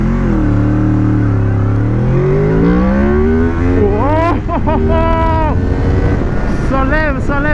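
A 2006 Honda VFR 800 VTEC motorcycle pulling away hard in a 0 to 100 run, the engine note climbing steadily through the revs, then rapid rising sweeps as it shifts up, loud and close with heavy wind buffeting.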